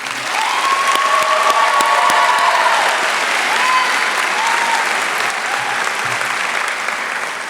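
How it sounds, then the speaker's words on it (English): A graduation crowd applauds the class advisors in a large venue, steady dense clapping that swells early and holds strong, with a few scattered cheers mixed in. "A big round of applause for the class of 2019 advisors"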